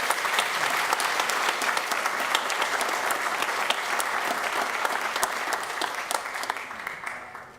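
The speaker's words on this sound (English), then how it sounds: "you can clap one more time if you really want" A congregation at a Shabbat evening service breaks into steady, dense applause that carries for several seconds at an even level before tapering off near the end.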